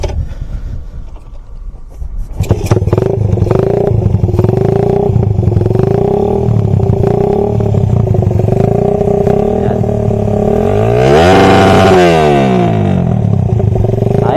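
A motorcycle with a stock CDI starts up and revs hard, its engine note climbing in repeated pulses until it bounces off the rev limiter near 12,000 RPM with a stuttering, rising-and-falling buzz, loud and close.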